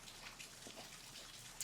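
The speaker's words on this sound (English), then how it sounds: "So you can hear the rain in the background." Steady light rain pattering and trickling throughout, soft and close, with no voices, during a hot afternoon.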